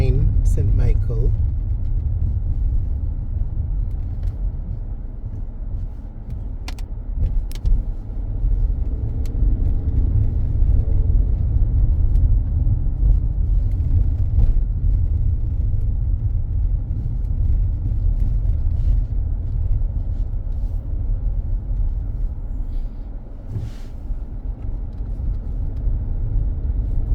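Car cruising through the quiet residential streets of the Pine in St. Michael, Barbados, with a steady low road rumble and engine drone throughout and a voice talking over it.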